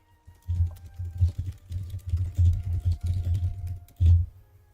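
Rapid clattering keystrokes on a computer keyboard while gaming, dense bursts of typing with brief pauses, close to the microphone and heard alone.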